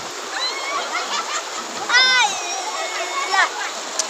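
Continuous rushing splash of water at Kaeng Ki Khiao waterfall fills the background while someone speaks loudly over it close up.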